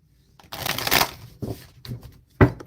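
Tarot cards shuffled in a few bursts: a long riffling run followed by two short shuffles and a final sharp snap of the deck, close and fairly loud with no talking.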